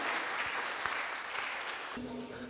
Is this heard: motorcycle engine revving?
no